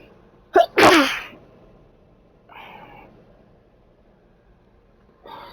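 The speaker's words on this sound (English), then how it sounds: "sorry about the sneezing" A person sneezes sharply, a short snort followed by one loud burst, with faint vocal sounds after it in a quiet room.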